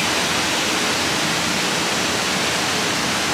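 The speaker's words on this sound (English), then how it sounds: "There's 4 of them at the moment cascading through the canyon" Mirusha Waterfall in Kosovo pours through a canyon, its several cascades blending into a steady, dense broadband rush that stays even and unbroken throughout, with no voices over it.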